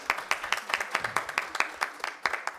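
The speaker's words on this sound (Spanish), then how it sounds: "Un aplauso, por favor." A small audience at a panel session applauds an introduced speaker, a thin round of distinct, rhythmic claps from a few people, fairly close and without talk.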